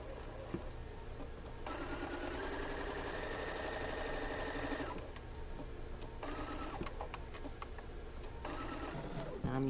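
A sewing machine stitches slowly through the bulky center seam of a quilt block, running in long steady whirring stretches with brief pauses between them under a low room hum.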